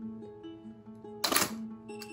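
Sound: Mamiya RB67 analog camera shutter firing

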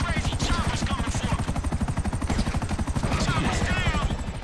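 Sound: Buzzard attack helicopter in video game GTA V

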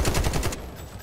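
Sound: gunfire in the video game Delta Force

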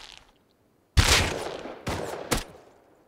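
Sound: gunshots in a video game

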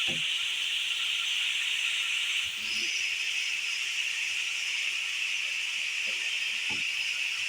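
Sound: onions frying in a pan

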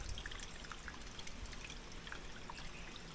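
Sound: water flowing from a natural spring

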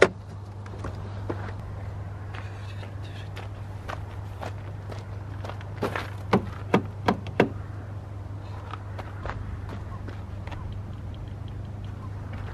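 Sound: BMW X5 car door locking system operating

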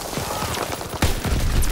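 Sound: gunfire in a WW2 video game

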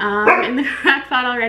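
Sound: dog barking

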